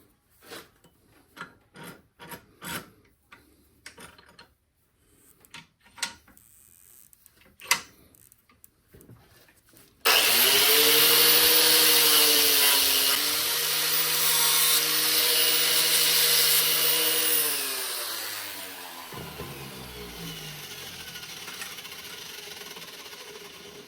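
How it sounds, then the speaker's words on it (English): A power tool grinds steadily against the steel back of a Hudson Bay hatchet head, a loud continuous whine that begins abruptly after scattered clicks and handling knocks, then drops in pitch and fades near the end. "I'm going to go ahead and clean the back off and make it smooth again"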